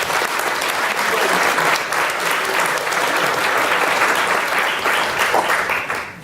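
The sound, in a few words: applause from the audience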